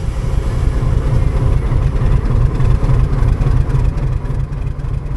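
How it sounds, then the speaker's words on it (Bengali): Diesel locomotive shunting the Uttarbanga Express toward the shed, a steady loud low engine rumble that holds throughout with no talk. "এই ডিজেল ইঞ্জিনটা এবার ট্রেনটাকে শেডের দিকে টেনে নিয়ে যাবে।"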